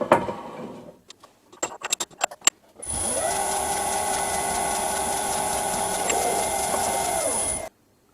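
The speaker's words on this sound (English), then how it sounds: "Let's center drill." A lathe center drilling the end of a metal bolt, a few sharp clicks and taps before a steady, loud mechanical whir with a high whine starts, holds for about five seconds, then stops abruptly.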